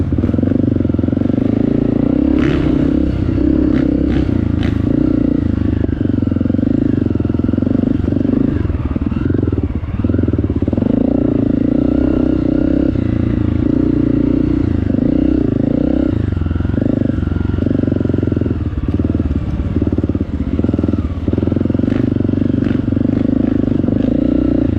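A dirt bike roars along a forest trail in Croom, Florida, its loud engine droning without a break and rising and falling slightly with throttle, with occasional clatter from the rough ground.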